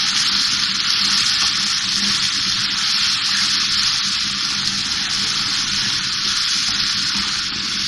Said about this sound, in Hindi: अब मसाले शामिल करने के बाद इसको भूनेंगे ताकि अच्छा सा फ्लेवर आ जाए टमाटर और प्याज में